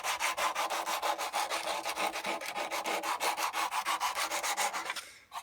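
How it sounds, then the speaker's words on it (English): Sandpaper wrapped around a block rubs steadily across a small wooden ring box, making a rhythmic rasping of quick back-and-forth strokes. It is close and fairly loud, with no talking, and stops briefly near the end. "just going to get our sandpaper like this and wrap it round a block, and we're going to just carefully sand round it"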